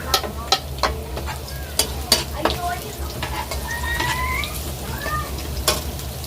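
Ginger and garlic sauté in a pan for a tilapia escabeche sauce, a steady close sizzle punctuated by sharp spatula clicks against the pan and a few squeaky scrapes.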